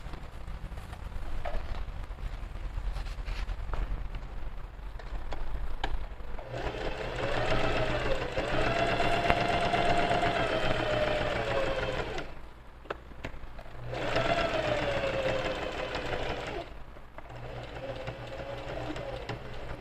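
A sewing machine stitches a built-in bag pocket, its motor whirring in two long, steady runs separated by a brief pause, close and clear, with quieter handling noises before and between.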